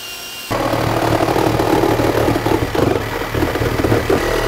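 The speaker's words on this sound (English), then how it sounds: "I'm gonna start with a hole. This is a hammer drill" A hammer drill bores a hole in rusty metal during a V12 engine swap into a 5.0 Mustang, a loud, continuous rattling whine that starts abruptly and holds steady, fairly close.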